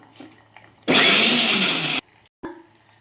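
A kitchen mixer grinder whirs for about a second blending papaya into a puree for a baby, a loud, steady motor whine that starts and stops abruptly, with faint handling noises before and after.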